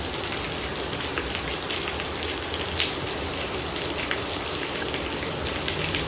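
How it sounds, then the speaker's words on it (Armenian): Steady rain falls in a constant, even hiss on outdoor surfaces, with scattered sharper drop impacts and no voices. "այ քեզի անձրև"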